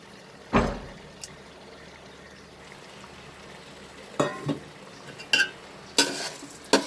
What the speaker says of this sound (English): Now I'm going to saute this rice along with the masala, the rice and dal mixture, for near about 5 minutes.